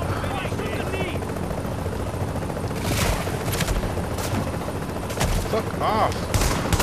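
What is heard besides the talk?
gunfire from The Division video game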